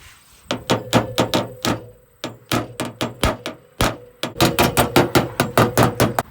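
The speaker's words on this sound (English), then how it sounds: "I'm going to use this body hammer to kind of pound them down" A body hammer pounds down the high spots around a dent in a 2015 Chevy Silverado panel: close, sharp metallic strikes in quick bursts of several blows with short pauses between, and no talking.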